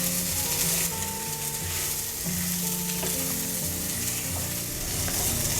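Radish muthiya pieces fry and get stirred in a pan, with steady sizzling and occasional scraping of the spoon, moderately loud and close, and no voices.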